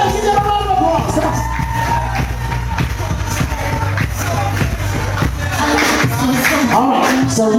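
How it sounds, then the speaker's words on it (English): A lively wedding reception crowd cheers and whoops loudly, with scattered yells and shouts over continuous applause and background music. "give them a round of applause"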